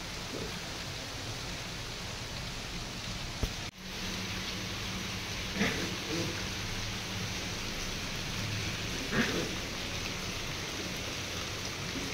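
Rain falling outdoors in a constant broad wash of drops, with a couple of brief louder knocks and taps nearby and no speech.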